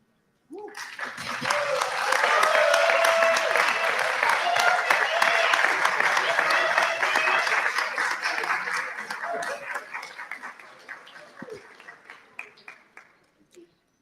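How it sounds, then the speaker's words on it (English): Graduates at a business school hooding ceremony applaud their families, a broad swell of clapping from a large seated crowd that builds quickly, holds for several seconds, then tapers into scattered claps. "give them a rousing round of applause for the support you've received through the years here"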